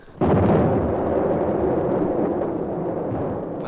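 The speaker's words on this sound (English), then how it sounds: "An infernal din of guns broke out as we approached the channel." Cannon guns open fire from a sailing warship in an audio drama, a sudden loud boom swelling into a sustained, rumbling roar of massed gunfire that stays heavy and continuous to the end.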